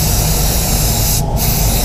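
Paint spray gun hisses loudly and steadily while coating the fender of a silver Volvo XC90 in a spray booth, a close continuous blast with one brief pause near the end.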